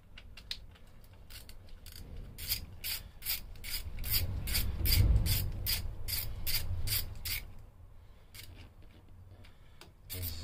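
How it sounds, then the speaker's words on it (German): Screws being turned in by hand into a Simson S51 motorcycle clutch being converted to five plates, a close rhythmic ratcheting and rasping repeated steadily over a faint low rumble. "Erstmal alle Schrauben so ein bisschen so reindrehen."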